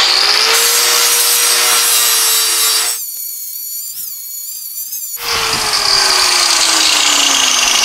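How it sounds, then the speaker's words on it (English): An angle grinder with a worn flap disc works on a Porsche 912's rear suspension, giving a loud, harsh whine with abrasive scraping that drops off into a spinning-down hum, then bites in again at full roar. "Angle grinder with a pretty much shot flap disc."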